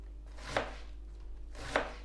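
A knife chops cabbage on a board in two distinct strokes about a second apart, each a crisp close thud with a slight scrape, over a low steady background hum.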